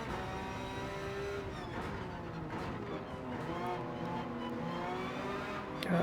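Porsche GT3 race cars in Gran Turismo 7 during a Porsche Cup race, their engines droning and revving steadily in a tight pack with shifting pitch, moderately loud and continuous with no talking.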